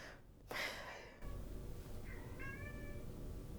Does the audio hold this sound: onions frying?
no